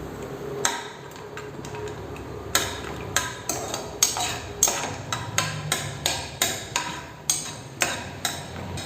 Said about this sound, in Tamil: நம்ம இந்த முந்திரி பருப்பை சேர்த்து வறுத்து எடுத்துக்கலாம்